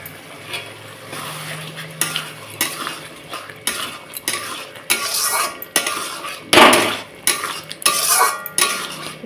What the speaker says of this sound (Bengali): তো একটু জল দিয়ে আবারও ভালোভাবে একটু মশলাটাকে কষিয়ে নেব।